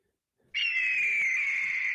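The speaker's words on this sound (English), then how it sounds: "Play the hawk noise." A hawk call sound effect plays on a live show, a single sustained, piercing screech starting abruptly after a moment of silence and holding steady to the end.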